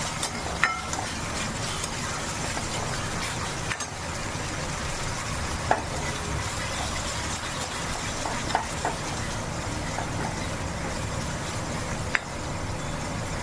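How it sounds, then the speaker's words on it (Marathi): Ginger, garlic and green chilli frying in a pan for kadhi, a steady close sizzle throughout with a few light clinks of a utensil, no talking. "अद्रक, लसूण, हिरवी मिरची हे टाकून द्या."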